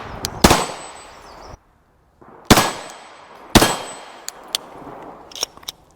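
Three loud, sharp shots from a Glock 17 Gen 5 clone 9mm pistol, spaced a second or more apart, each with a bright ringing tail, followed by smaller metallic clanks.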